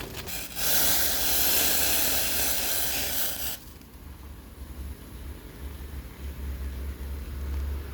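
A bright rushing hiss of boiling water being poured over coffee grounds in a South Indian filter coffee maker for a few seconds, then it stops, leaving quiet low rumbling.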